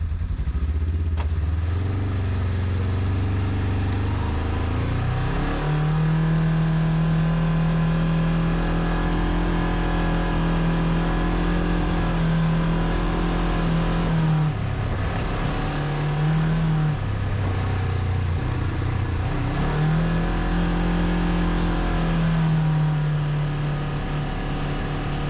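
A vehicle drives along a Wisconsin trail in Sawyer County, its engine droning steadily and rising in pitch as it accelerates, easing off briefly and picking up again, with no talk.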